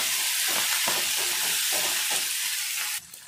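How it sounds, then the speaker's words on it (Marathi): Fenugreek leaves and spring onions sauté in hot oil with a steady, loud sizzle and faint stirring scrapes throughout, cutting off sharply near the end. "यातून घेतलेली मेथीची भाजी आणि कांद्याची पात आपण छान परतून घ्यायची"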